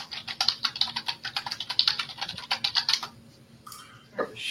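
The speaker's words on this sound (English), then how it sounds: "we can hear you typing" Quick bursts of keystrokes tap on a computer keyboard close to a microphone for about three seconds, then stop, leaving quiet room tone and a short rustle.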